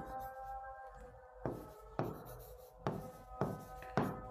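Marker or chalk strokes on a board in a reasoning class, a handful of short scraping strokes at an uneven pace, close and fairly faint over a steady background hum.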